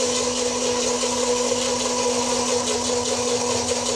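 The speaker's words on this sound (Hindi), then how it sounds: "ब्लेंडर जो है वो हमारा चलता रहे" Kitchen blender running continuously while emulsifying mayonnaise, a steady whirring motor drone with a constant hum, close and unbroken for the whole stretch, no talking.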